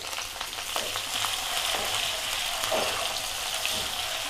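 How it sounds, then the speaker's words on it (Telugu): Onions and green chillies frying in hot oil in a pan while making vegetable semiya rava upma, a steady close sizzle with a few brief stir scrapes, no talking. "వేగినాయండి ఉల్లిపాయలు, పచ్చిమిరపకాయలు."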